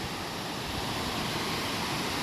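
Waterfalls pouring down beneath desert cliffs make an even, unbroken rush of falling water, moderately distant and without any voices.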